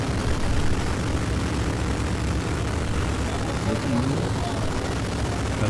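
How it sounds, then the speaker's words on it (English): A propeller aircraft engine drones loudly and continuously with a rough, buzzing roar during aerobatic flight, and a voice speaks beneath it. "I like the sound of that motor."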